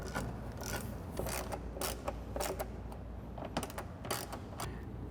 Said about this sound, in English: grab the screws and tighten the socket into position